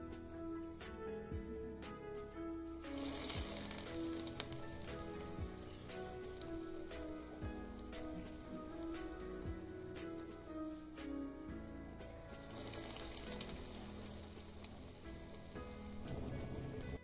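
Cafe-style potato nuggets deep frying in hot oil make a dense, even, rain-like sizzle that carries on steadily at close range.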